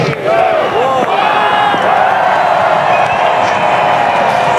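A sellout crowd roars steadily at a sunny T20 cricket match between Ireland and India, a loud continuous wash of cheering and chanting with shouts rising above it throughout.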